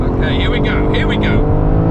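A BMW M4 and an M440i launch side by side in a drag race, with loud engine roar and rising revs filling the whole moment while a voice speaks over it.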